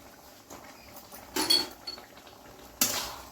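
A spoon stirs Indian olive chutney with turmeric, Kashmiri red chilli and ground cumin in a pan. Two soft metallic scrapes and clinks stand out against quiet background noise.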